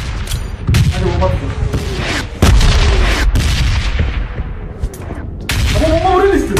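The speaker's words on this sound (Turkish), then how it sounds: "Ama bomba buraya düştü." A bomb going off in the battle royale game PUBG Mobile: several loud, booming blasts and gunfire-like bursts, one heavy impact in the middle, with someone talking excitedly throughout.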